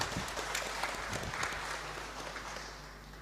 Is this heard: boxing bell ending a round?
no